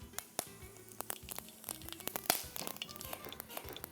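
Cinnamon, cloves and bay leaf sizzle in hot oil with a quiet, continuous crackle and scattered sharp spits and pops, heard close and alone.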